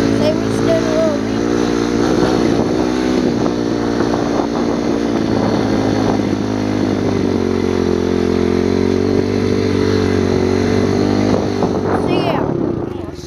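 A Kawasaki KLX 110 dirt bike engine runs with a steady, loud, close buzzing drone that holds for the whole stretch before tapering at the end.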